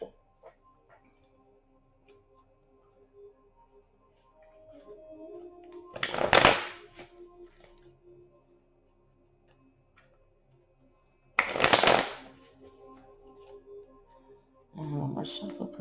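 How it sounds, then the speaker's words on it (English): Tarot cards are shuffled in three separate bursts, each a quick, close riffling flutter, separated by near silence with faint background hum. "One more shuffle,"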